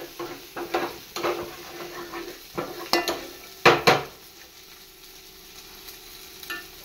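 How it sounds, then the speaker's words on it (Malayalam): Prawns fry in a pan with a soft sizzle, joined by irregular stirring scrapes and a few sharp clinks of a utensil against the pan, close and moderately loud. "അപ്പം നമ്മുടെ ചെമ്മീൻ അപ്പുറത്തെ കിടന്ന് ഫ്രൈ ആയിക്കൊണ്ടിരിക്കണ്ട കേട്ടോ"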